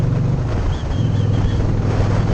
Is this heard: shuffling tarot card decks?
no